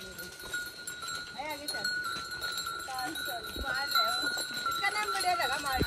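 Goats bleating several times amid a farmyard, with a ringing bell and people talking nearby.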